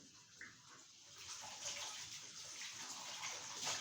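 Water running onto a pan being washed, a steady splashing gush from a tap that grows slightly louder, close and continuous with no talking.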